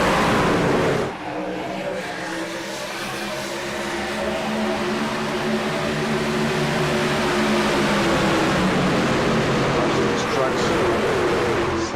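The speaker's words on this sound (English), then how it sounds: "slam through the gears here through turns 1 and 2" Race trucks at Daytona in the iRacing video game: a loud, continuous engine roar runs throughout, rising and falling as the trucks shift gears, after a brief quieter moment at the start.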